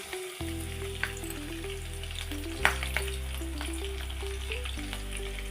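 Green chillies frying in hot oil for a chicken fry curry, a steady crackling sizzle with a few sharper pops, while a low droning hum runs beneath throughout.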